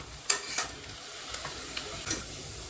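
Potato and bread vegetable nuggets frying in oil over medium heat, a soft steady sizzle broken by a few sharp ticks and scrapes from turning them in the pan, close and fairly quiet, no voices.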